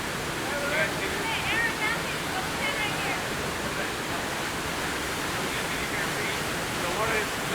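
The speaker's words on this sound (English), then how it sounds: "the water is splashing out and it's at its highest speed" Trummelbach waterfall roaring and splashing at full force, a broad, constant rush of water close by, with faint voices under the noise.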